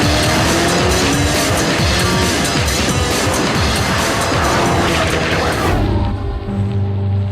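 A Koenigsegg supercar accelerates hard on a test track, its engine roaring loud and continuous with rising pitch, then easing off near the end to a lower, steadier drone.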